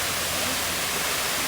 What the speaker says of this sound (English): Come and check out the waterfall.